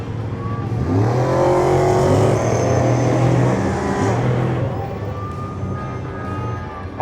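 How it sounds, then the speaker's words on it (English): Off-road trophy trucks roll through the Mint 400 parade, engines revving loudly as they pass nearby, pitches climbing and falling in surges over a busy crowd backdrop. "A lot of this parade is just people driving down and revving"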